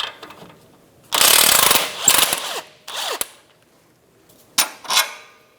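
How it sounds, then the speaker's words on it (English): 18mm socket on a power ratchet or impact tool spinning the nut off a rear shock absorber bolt on a 2009-2013 BMW 328i xDrive: two loud bursts of whirring, then shorter spurts, close up with no talk. "18mm socket, and I'm going to take the nut off the bolt"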